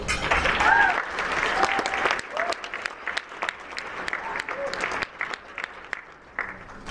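Applause from an audience at a scholarship gala as a student speaker is welcomed to the stage, a dense burst of clapping that starts loud and gradually thins out over several seconds.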